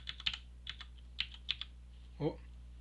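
A computer keyboard pressed during a programming class, a handful of quick close clicks in an irregular rhythm followed by one heavier thump, with faint room hum underneath.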